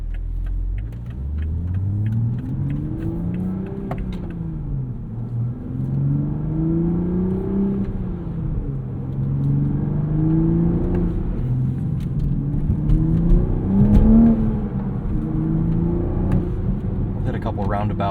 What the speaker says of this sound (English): this IMT will rev match first gear for you.